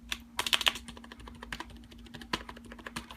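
Typing on a CM Storm Devastator membrane keyboard from a gaming combo: soft, close key clicks in uneven bursts, a quick flurry early on and then scattered presses, heard over a faint steady hum.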